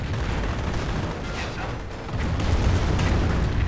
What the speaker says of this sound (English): Lots of artillery